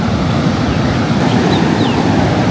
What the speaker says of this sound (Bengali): খুব ভালো মতো গর্জন শোনা যাচ্ছে সমুদ্রের।